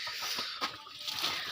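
A large desi rooster clucks softly a few times against steady background noise, the calls faint and close, with no one speaking.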